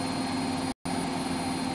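A steady, loud engine roar from a Vought Corsair aircraft, broken by one brief gap of silence.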